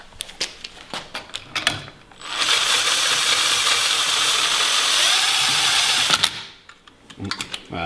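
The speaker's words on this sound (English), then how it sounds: "we'll compress the spring" A clutch tool cranked to compress the spring on a Ski-Doo Gen 5 turbo clutch: quick ratcheting clicks, then a loud continuous whirring drive of several seconds, then more ratchet clicks, close up.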